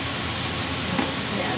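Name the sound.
mushrooms cooking in a pan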